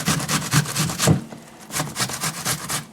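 An onion rubbed down a box grater, a close rhythmic series of rasping strokes, about a dozen in all, with a short pause partway through.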